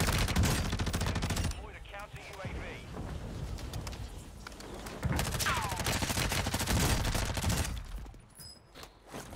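Dense bursts of automatic gunfire in an online shooter game, rapid rattling volleys from several weapons overlapping, loud and close with brief pauses, while a player talks over the action.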